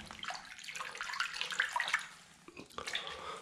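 Found cartridges are rinsed under running water inside a disused Dortmund air-raid bunker, with irregular splashing and trickling that rises and falls in short bursts, close and fairly quiet.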